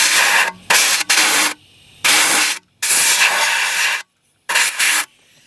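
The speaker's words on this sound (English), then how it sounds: "And then I run compressed air across the regulator and look for leaks." Bursts of compressed air hiss loudly across a fuel regulator on a 1994 Astro van during a CPI cleaning and leak check, coming in several long blasts separated by short pauses of near silence.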